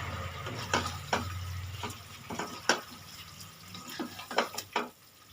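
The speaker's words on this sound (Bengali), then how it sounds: "ফুলকপিগুলো দিয়ে আমি তিন থেকে চার মিনিট ভালো করে কষিয়ে নেব" Fried cauliflower stirred through a spice masala in a pan, a quiet crackle under repeated spatula scrapes and knocks at irregular intervals, close by.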